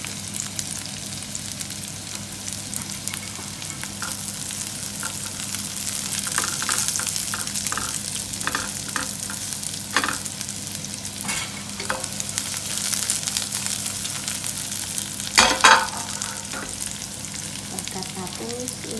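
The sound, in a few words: garlic sizzling while sautéing in a pan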